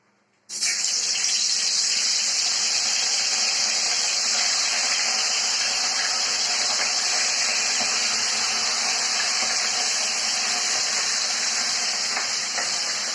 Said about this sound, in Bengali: চলো মাছগুলো ভেজে নিই তাহলে।